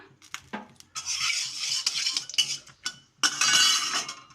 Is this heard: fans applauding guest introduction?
no